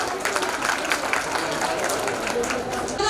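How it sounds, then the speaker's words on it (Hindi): Sustained audience applause at a costumed women's foundation cultural event, dense continuous clapping filling the hall at a steady level, with crowd voices blended in. "बहुत सारी तालियां एक बार फिर से हो जाए"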